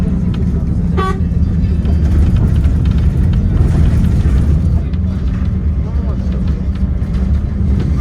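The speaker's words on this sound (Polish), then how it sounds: "O, fajnie nas wiózł ten autobusik." A small bus carrying passengers through the Czech Krkonoše mountains, its engine droning steadily from inside the cabin, with a short horn toot near the start and people talking throughout.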